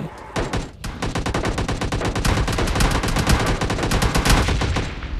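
Rapid, continuous automatic gunfire in PUBG Mobile Lite with a dense, rattling burst pattern, loud and close, running nearly the whole time with only a brief gap early on.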